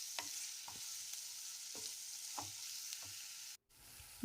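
Egg pepper fry ingredients roasting in a pan, with a steady soft sizzle and a handful of spaced scraping stirs, moderately close and heard alone with no talk.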